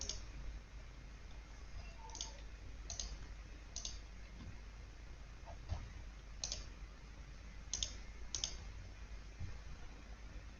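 Computer mouse clicks sound in a sparse, irregular series over a faint room hum, each click crisp and close, with no talking during the sequence.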